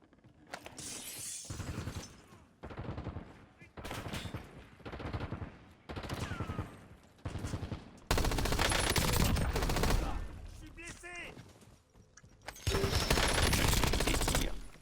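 Gunfire from the Warzone video game comes in repeated loud bursts of rapid shots, with a short sharp crack of breaking glass among them.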